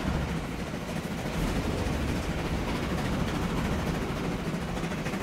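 A train runs in Transport Fever 2 on a UK-modded network near a junction: a steady, dense rumble and rolling clatter that holds at an even level throughout, with no talk.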